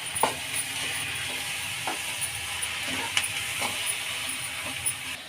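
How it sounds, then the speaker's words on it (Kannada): Potato curry stirred and mixed in a hot pan, a spoon scraping in repeated strokes with small clicks over a steady sizzle, close and fairly loud, no talking. "ಈಗೆಲ್ಲ ಮಿಕ್ಸ್ ಮಾಡ್ಕೊಳ್ಳೋಣ"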